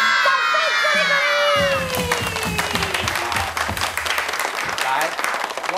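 Children's audience at a Taiwanese glove-puppet show clapping and cheering loudly, a dense burst of applause with shouts that follows a whistle-like glide and continues steadily to the end.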